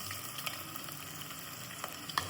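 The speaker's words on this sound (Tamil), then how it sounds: "இதில் நம்ம நறுக்கி வச்சிருக்கிற ஒரு வெங்காயத்தை போட்டு வதக்கணும்." Chopped onions frying in hot oil for a mushroom gravy give a soft, steady sizzle with a few faint clinks of stirring. No voices are heard.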